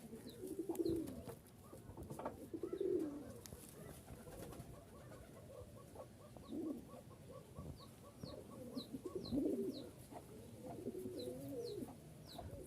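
Giribaz pigeons held in Rajshahi coo in soft, low, rolling phrases that repeat every couple of seconds, faint and close, with light rustling between calls.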